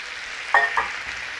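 Brussels sprouts, chestnuts and pancetta frying in a pan with lemon juice, a soft steady sizzle with a couple of brief stirring clicks, close and alone.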